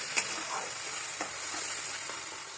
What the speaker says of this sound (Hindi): ये मैं मसाला डाल रही हूँ और इसको मैं अच्छे से भूनूंगी